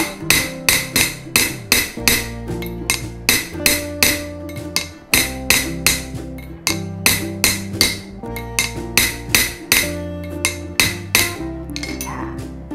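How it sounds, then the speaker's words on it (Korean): Rhythmic metal hammering on silver being shaped into a pendant, sharp ringing strikes in quick, steady bursts with brief pauses between runs, close and bright. "여러분들이 힘들어도 조금 더 힘을 내서 망치질을 해보세요"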